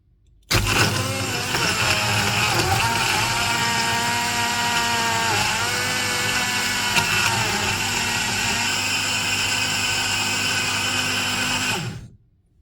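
An OTE portable smoothie blender starts abruptly and runs for about eleven seconds, a loud close motor whine with shifting pitch as contents churn, then cuts off sharply; no voices.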